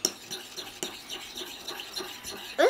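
A fluffy unicorn slime mixture being stirred in a bowl gives soft, quiet, irregular squelching and scraping strokes close up, with no talking.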